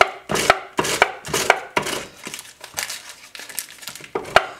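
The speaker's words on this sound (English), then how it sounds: "Grab our grater, and now we're going to put in 1/2 cup of frozen butter." Frozen butter is grated on a kitchen grater in a series of short rasping scrapes, close and irregular, with pauses between the strokes.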